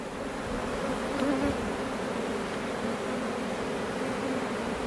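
A dense swarm of honeybees, just shaken off a hive frame, buzzes loudly and continuously, a thick, steady hum with no pauses.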